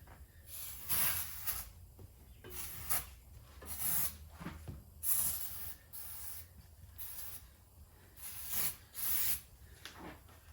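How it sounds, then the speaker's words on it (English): Repeated short hissing bursts of fluid are sprayed onto a large mud tire for a 2000 Lexus LX 470, about eight quick spritzes spaced irregularly, fairly close and quiet, no talking. "Go ahead and spray some fluid."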